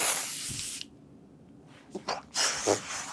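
A Thai cooling body spray fires in short aerosol bursts: one long hiss, a pause, then a couple of quick puffs and a final longer spray, all close and loud with no talk.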